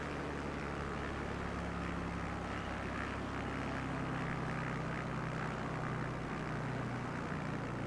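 A steady, droning propeller airplane engine in a flight simulator game during a bush-flying approach over Norwegian islands, holding a constant loud hum throughout with no pauses.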